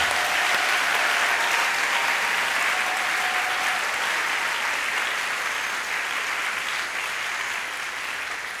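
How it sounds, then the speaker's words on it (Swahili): A church congregation claps for the Lord, sustained dense applause from many hands filling the room and easing slightly toward the end. "Tumpikie tena Bwana makofi."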